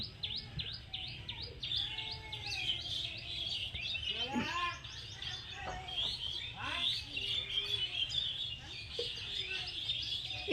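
Many birds chirp and call in a dense forest, with varied tweets and warbles overlapping close by over a low hum of background noise.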